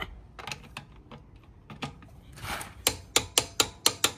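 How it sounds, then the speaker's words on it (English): A torque wrench tightens rear brake bolts to 150 Nm on a Mercedes X166, giving scattered soft clicks and then a run of crisp, evenly spaced ratchet clicks up close near the end. "So now we use the torque wrench and tighten them down to 150 Newton meters of torque."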